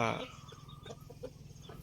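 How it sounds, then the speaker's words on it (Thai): Chicken clucking at a Thai fighting-cock farm, a few soft, short clucks at close range over low steady background hum, following a brief louder burst at the start. "ไก่นะครับ"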